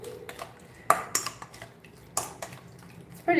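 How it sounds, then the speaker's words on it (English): Metal utensils clink against a pot while lunch is stirred in a home kitchen in Mexico City, with scattered sharp taps and scrapes at an irregular rhythm, close and moderately loud. "Just stir."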